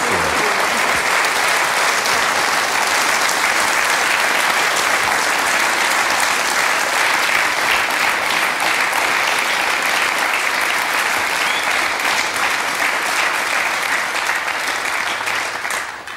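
A studio audience at a German TV talk show applauds a guest being welcomed, with dense, loud, sustained clapping that continues evenly before tapering at the end.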